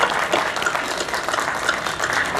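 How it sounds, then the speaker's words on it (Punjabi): Audience clapping at a public gathering, a dense, steady wash of many hands throughout, loud and close. "ਮੈਂ ਦੇਖਣਾ ਕਿ ਸਾਡੀ ਤਾਲੀਆਂ ਦੀ ਕਿੰਨੀ ਆਵਾਜ਼ ਆਵੇ"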